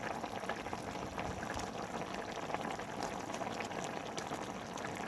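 A pan of fish steak simmering with onion rings and green chili, giving a steady, dense bubbling boil that holds an even level throughout with no talk over it.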